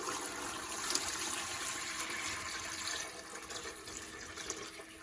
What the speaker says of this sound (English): pour about 3 quarts of water in